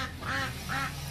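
A duck on a farm gives two close, nasal quacks in quick succession, clear and moderately loud.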